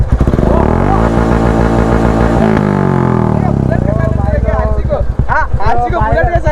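A KTM RC 200 motorcycle fitted with a Bullet silencer revs loudly up close, the engine rising and then falling in pitch with a thumping exhaust, as voices speak over the engine toward the end.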